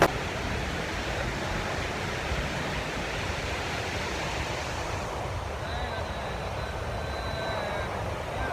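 A waterfall near Kalam, Pakistan gives a steady, full-bodied roar of rushing water that fills the whole scene, heard up close and loud without a break, with faint wind mixed in.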